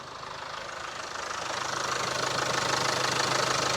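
A Land Rover Evoque engine, bought broken with a dead engine, runs steadily close by with a low idle hum and a faint knocking rhythm, gradually growing a little louder, no talk over it.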